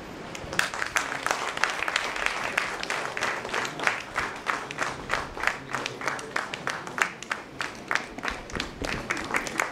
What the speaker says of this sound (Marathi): आपण टाळ्यांचा मोठा कडकडाट करूया